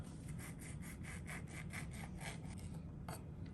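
A knife saws through lemons, cutting them into pieces for lemon pickle, with about a dozen quick rhythmic rasping strokes close up over a constant low hum.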